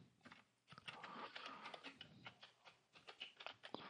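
Rapid, irregular key clicks of someone typing on a computer keyboard, quiet and close, with brief pauses between bursts.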